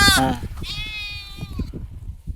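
Sheep and very young lambs bleat at close range on a shepherds' farm, one sharp call followed by a longer wavering bleat, then quieter shuffling and low background noise.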